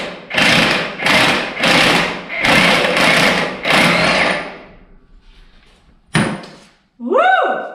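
A new Ingersoll Rand impact wrench fires in five loud, evenly spaced hammering bursts, followed by a sharp metallic clank and a few short squeaky chirps.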